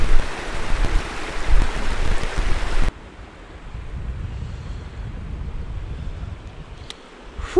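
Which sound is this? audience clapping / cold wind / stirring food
cold wind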